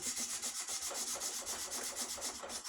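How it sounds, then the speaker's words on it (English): Sandpaper rubs along a wooden axe handle in quick, steady back-and-forth strokes, close and even, with a soft scratchy rasp and no talking. "Go back to the sandpaper."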